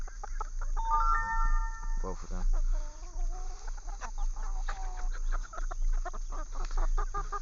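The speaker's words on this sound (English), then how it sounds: "It's one of my bigger roosters right there." One of the bigger roosters in a backyard flock clucks close by in short, repeated bursts, with a person talking over and between the calls.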